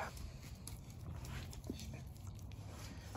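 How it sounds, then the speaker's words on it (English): Dogs outdoors on a bright sunny day give faint, distant barks and whimpers over steady background noise. "Again, dogs want to make noise when I'm filming."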